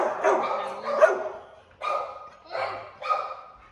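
A dog barks several times in short, loud bursts, close by, with brief pauses between the barks.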